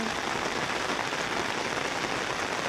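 Steady, even rain patters softly on a surface where sheep graze, a continuous wash of drops with no voices.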